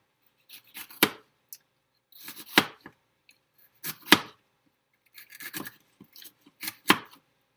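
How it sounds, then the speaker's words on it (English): Knife chopping vegetables into strips for a Greek salad on a cutting board, a series of close, crisp cuts in short bursts separated by brief pauses. "And I'm just cutting them into strips."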